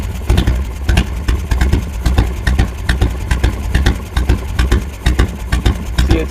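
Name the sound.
engine idling while adjusting S&S carburetor mixture screw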